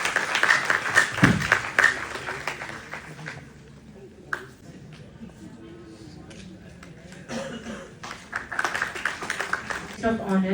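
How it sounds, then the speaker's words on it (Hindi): Applause from a seminar audience greeting a guest, a burst of clapping at the start that fades under a speaking voice before picking up again near the end. "जोरदार तालियों से इनका स्वागत।"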